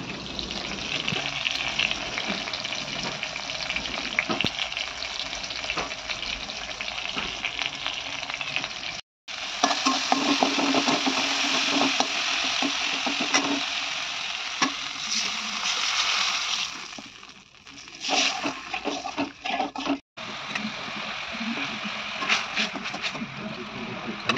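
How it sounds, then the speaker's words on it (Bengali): Fish roe sizzles and crackles in hot oil in a pan in a home kitchen, a steady close frying hiss broken by brief pauses and stirring noises, with no talking. "মাছের ডিমগুলো ভেজে নিলাম।"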